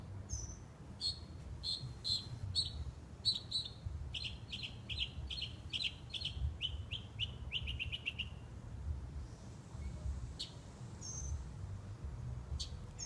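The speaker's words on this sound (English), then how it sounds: "Happy little birds." Small birds in a backyard with bird baths chirp in quick, bright bursts, close and clear, repeating rapidly for several seconds before thinning to a few sparse calls over quiet background.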